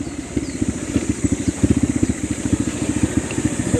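A small motor scooter engine putters steadily nearby, its rapid pulsing idle rhythm clear and fairly loud, with no one speaking.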